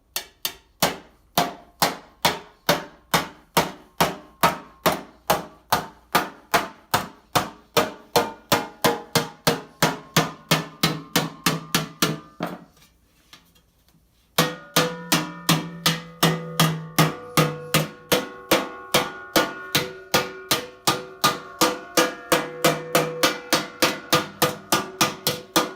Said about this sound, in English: the next stage is to hammer out this flange at the bottom here